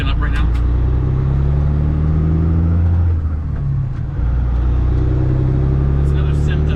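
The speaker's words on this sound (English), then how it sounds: "Can you hear my truck breaking up right now?" A semi truck engine drones steadily with low rumble, its tone briefly dipping and faltering midway as the engine breaks up, before picking back up, all under continuous road noise.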